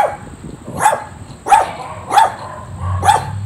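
A dog barks four times in a steady rhythm, each bark loud and close against a constant high whine of background noise, with no talking.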